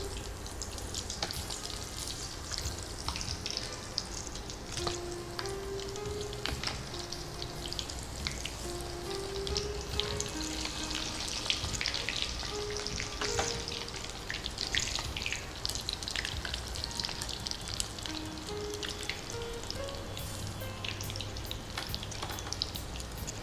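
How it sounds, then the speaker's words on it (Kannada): Lobster fries in a pan with a continuous low sizzle, scattered crackles and small drips and spatters throughout, and no speech. "ಸೊ ಇದು ಈ ಕಡೆ ಫ್ರೈ ಆಗ್ತಾ ಇರುತ್ತೆ."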